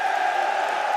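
A crowd in an esports arena roars steadily for Team Liquid during an MLG 2016 Counter-Strike semifinal on Mirage, a sustained wash of cheering.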